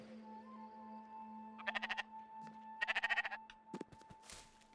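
Sheep in the Spiritfarer video game bleat in two quick bursts of rapid, wavering calls, then give a shorter bleat, over a quiet game hum with a steady low tone.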